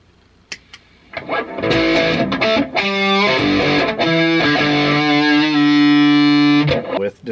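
Electric guitar through a Mooer Black Secret distortion pedal on its vintage setting into a tube head with four EL34s; a few picked notes, then loud sustained distorted chords ringing out before cutting off.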